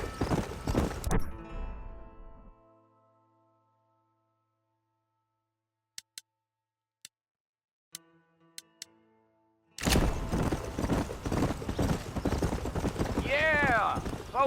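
Horse hooves clatter in Red Dead Redemption, a few sharp isolated clip-clops in near silence after a burst of speech, then loud continuous movement and sound returning at the end.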